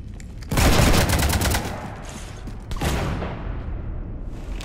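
Heavy bursts of gunfire tear into a ship in the video game Mass Effect 3, two loud volleys of rapid shots with a rumbling tail, the second burst following after a short lull.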